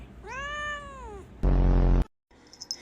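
A clingy pet cat gives one drawn-out, rising-and-falling meow close up, followed by a loud burst of rustling noise and a short silence.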